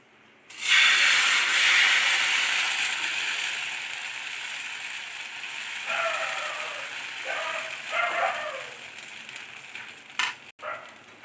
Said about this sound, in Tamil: இப்போ நம்ம தோசைக்கல்லில் ஊற்றலாம்.